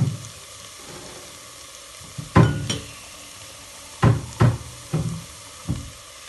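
Tomato paste fries in oil in a pot, giving a steady low sizzle with several sharp stirring scrapes and clunks scattered through, close and clear with no talking.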